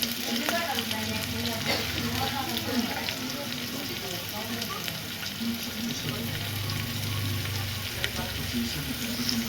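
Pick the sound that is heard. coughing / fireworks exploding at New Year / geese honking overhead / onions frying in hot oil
onions frying in hot oil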